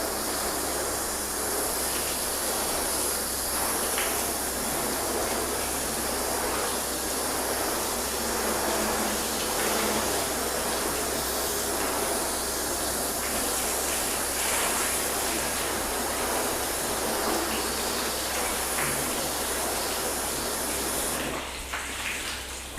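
A water hose spray rinses down a car coated with graphene sealant, a steady broadband hiss of water running evenly and fairly loud for the whole stretch, cutting off abruptly near the end.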